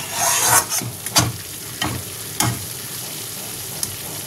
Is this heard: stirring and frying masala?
yes